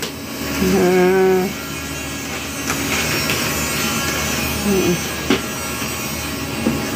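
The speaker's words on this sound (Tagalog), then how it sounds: "Magdiri siya i-vacuum sa carpet." Vacuum cleaner running over a carpet indoors, a steady broadband hum that persists throughout at moderate level, with a few brief tonal sounds and small knocks over it.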